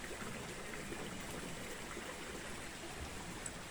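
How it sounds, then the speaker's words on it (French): Steady babbling of a small stream in Morlhon-le-Haut, Aveyron, France, continuous soft rushing and trickling water, fairly quiet and unbroken. "Écoutez le bruit du ruisseau là."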